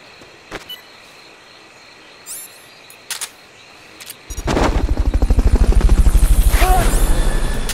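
Helicopter in the video game Metal Gear Solid: Peace Walker, a loud rhythmic rotor chop that suddenly starts midway and pulses steadily, preceded by a few brief game effect sounds.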